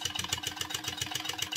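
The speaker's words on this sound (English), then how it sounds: "You'll want to go back and forth over it a couple of times" Sewing machine stitching back and forth, a rapid even mechanical chatter of needle strokes, close and fairly quiet, running steadily without talk.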